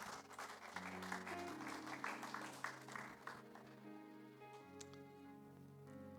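A church congregation applauds and cheers in praise of the Lord, a sustained wash of clapping over steady keyboard music that thins out after a few seconds.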